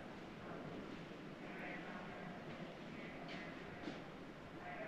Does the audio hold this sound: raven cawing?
no